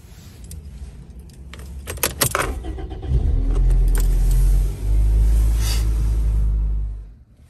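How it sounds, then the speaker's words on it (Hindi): A car pulling into a home garage and parking: keys jangle and clink first, then the engine rumbles steadily at close range, dips briefly, and cuts off as the car comes to rest, with no talking. "गैराज में मैंने गाड़ी खड़ी कर दी है"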